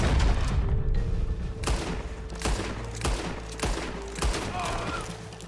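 Gunshots in the video game Red Dead Redemption 2, about six loud, evenly spaced booming shots over a rumbling low ambience, near and punchy, with no talking between them.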